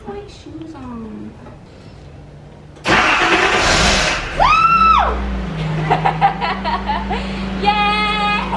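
A Datsun 280ZX engine cranks and catches after a part replacement, then settles into a steady idle, with faint talking and rustling before it starts.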